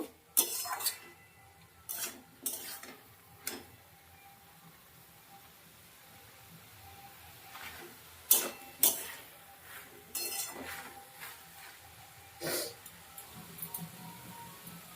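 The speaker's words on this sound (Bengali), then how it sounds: "মশলাটাকে সবজির সঙ্গে কষিয়ে নেব।" Spatula clinking against a pan while spice paste is sautéed with drumstick flower vegetables, with scattered quiet metallic taps and scrapes over a near-silent background.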